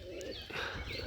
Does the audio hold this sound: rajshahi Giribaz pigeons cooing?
yes